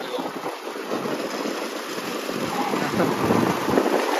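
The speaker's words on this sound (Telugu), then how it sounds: "ఫుల్ వర్షం అయితే పడుతుంది" Heavy rain roars in a thick, steady wash at a Durga festival in Hyderabad, with gusty low rumbling like wind buffeting the microphone, growing slightly louder toward the end.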